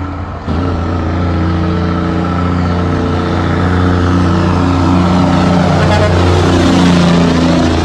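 A Mack truck's engine brake roars loudly up close, a deep droning rumble with a sharp onset that grows slightly louder and harsher as it holds.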